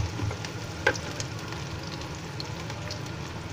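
Onion and half a spoon of cumin fry in two spoons of hot oil, giving a soft, even sizzle close by with one faint clink of a utensil early on.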